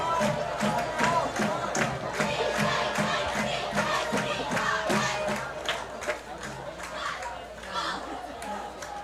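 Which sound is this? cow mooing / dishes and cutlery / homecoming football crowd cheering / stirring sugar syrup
homecoming football crowd cheering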